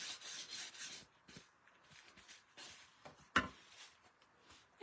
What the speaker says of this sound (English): I'm just gonna sand away some of these little flyaways here